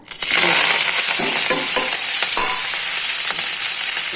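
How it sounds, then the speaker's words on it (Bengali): Chopped ghetkol leaves hit hot oil in a wok, giving a loud, steady sizzle with crackling throughout and bursts of stirring scrapes, with no talking. "এই দেখো কড়াইতে তেল দিয়ে দিয়েছি তেলটা গরম হয়ে গেছে এবার এই পাতাগুলো কুচানো ঘাটকলের পাতাগুলো"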